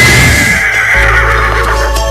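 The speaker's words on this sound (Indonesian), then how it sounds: "Kuda Sembrani itu akan menghantarkanmu pulang ke Malwapati" A magical flying horse, Kuda Sembrani, gives a loud close whinny lasting about a second, followed by a steady low rumble underneath.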